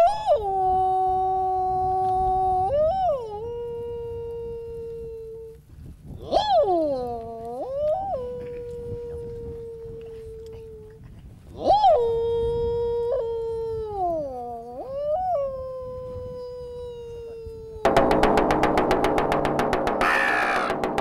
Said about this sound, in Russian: символ зимы это волк кричит